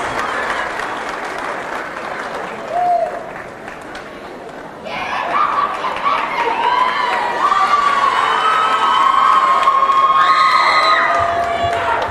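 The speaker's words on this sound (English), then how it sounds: "Let's have a round of applause for your senior homecoming queen, Alexia Campbell" A crowd in a high school gym applauds and cheers for the senior homecoming queen at a boys basketball game, loud and sustained, with whoops, children's shouts and chatter rising over the clapping.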